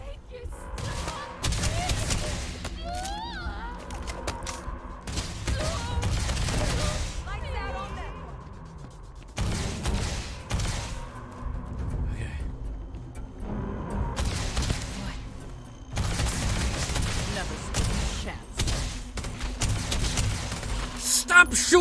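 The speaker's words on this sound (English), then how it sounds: "Stop shooting them with bullets!" Rapid bursts of sci-fi gunfire in the Starfield video game, loud volleys of shots in clusters separated by brief lulls, with pitched electronic weapon tones mixed in over roughly twenty seconds.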